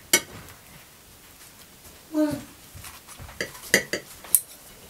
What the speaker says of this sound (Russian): Нарезаем пиццу.